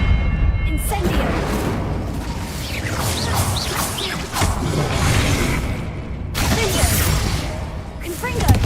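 The Incendio fire spell cast repeatedly in a Harry Potter video game: loud whooshing bursts and booming flares of flame, one after another, with a voice shouting over the effects.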